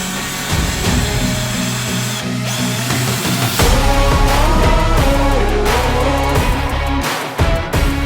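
A power drill grinds steadily into rivets inside a van during a conversion, a loud continuous whine with shifting pitch, close up, easing off briefly near the end.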